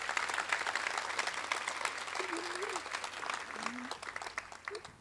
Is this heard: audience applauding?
yes